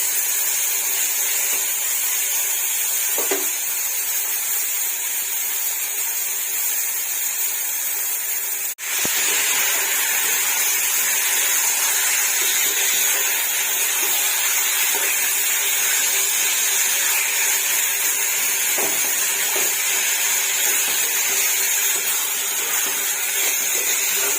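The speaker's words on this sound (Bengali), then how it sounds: "এবার চিংড়ি মাছগুলো ভেজে নেব চিংড়ি মাছ ভাজতে বেশিক্ষণ টাইম লাগে না" Prawns frying in hot oil, a continuous close sizzle and hiss that holds steady for a long stretch, with one brief click partway through and no voices.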